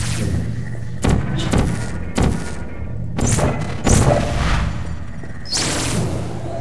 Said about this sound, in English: Vital testing apparatus destroyed.